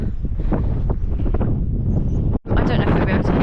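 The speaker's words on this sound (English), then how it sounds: "I don't know if you'll be able to hear me, it's quite windy" Strong wind buffets the microphone on a mountain summit in Snowdonia, a loud, gusty roar with a brief dropout before the blustering resumes.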